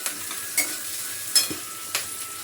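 Onions fry in oil reddened from okra, with a soft steady sizzle broken by three or four sharp scraping stirs of a spoon against the pan.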